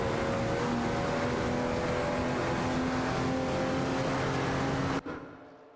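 Racing car engines roar steadily in an AI-driven racing video game with Ferrari F40 competition cars battling for position, a loud sustained engine drone with whining tones that cuts off abruptly near the end.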